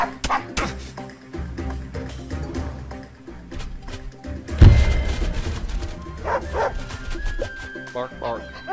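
Dogs barking in the video game Wargroove, with repeated yips and barks over game music and a thud in the middle, while a player talks throughout.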